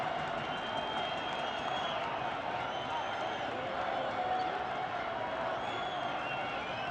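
A dense stadium crowd of Egyptian fans roars steadily after a goal in an Al Ahly match against Saudi side Al Qadsiah, a distant, even wash of cheering with a commentator talking over it.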